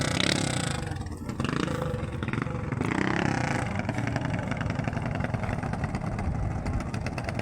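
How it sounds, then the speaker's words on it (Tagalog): A big-bike motorcycle engine revs loudly and close by, a dense, continuous roar that swells and holds steady throughout with no speech. "big bike na makina sana no?"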